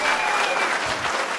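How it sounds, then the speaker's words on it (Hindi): Hearty, dense applause comes from a standing audience at a live student memory-training session in a wedding hall, a brief, steady wash of many hands clapping close together. "खड़े होकर तालियां मारना,"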